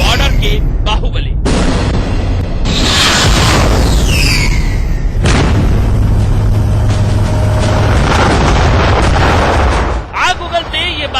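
Indian Army artillery guns firing shells in a show of strength, with several heavy, loud booming blasts and rolling rumbles following one another close together, then a brief quieter tail.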